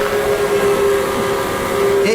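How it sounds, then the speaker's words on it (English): A long, low steam engine whistle from a toy wooden railway scene, a steady sustained tone holding throughout at moderate level with a faint background bed. "Then there was one long and low whistle."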